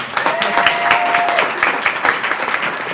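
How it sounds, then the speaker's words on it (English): A conference audience applauds steadily, dense clapping from many hands that holds at an even level throughout, with a faint voice briefly underneath. "Let's give a round of applause here to Lauren."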